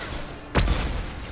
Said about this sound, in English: Okay, that's a grenade.